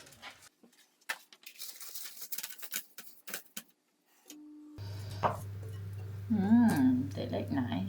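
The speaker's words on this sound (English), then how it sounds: "So we're just chopping these into little cubes." A knife chops cold butter into small cubes on a board, a run of close, irregular light taps, then a steady hum and a voice take over.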